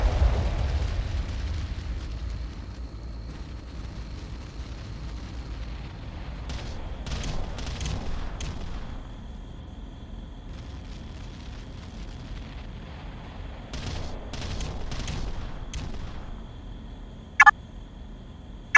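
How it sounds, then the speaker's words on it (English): Artillery barrage in the real-time strategy video game Ground Control, a deep rumbling opening followed by clusters of sharp distant blasts and impacts, a few louder pops near the end. "Beginning barrage."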